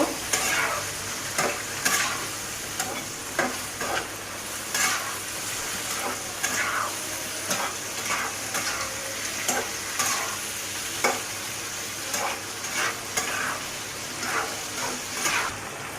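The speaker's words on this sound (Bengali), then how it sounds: "কম জালে এইভাবে 5 মিনিটের মতো আমি কষিয়ে নেব" Mixed vegetables sautéing in a pan over low heat, a constant sizzle broken by frequent stirring scrapes and clatters at an uneven rhythm, close and fairly steady, with no speech.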